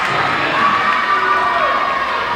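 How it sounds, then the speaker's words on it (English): A volleyball gym echoes with the loud, continuous roar of South Bend fans cheering. High whoops and children's shouts stand out over the dense crowd noise, and the noise stays strong for the whole moment. "South Bend has not lost their enthusiasm. Still cheering on every point as they need to."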